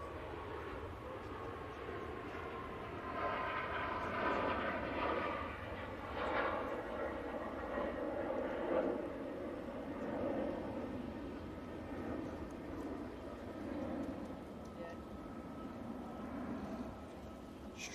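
Ryanair Boeing 737 MAX rolling for takeoff at Manchester Airport, a distant broad jet roar that swells slightly and holds steady throughout, heard from afar outdoors.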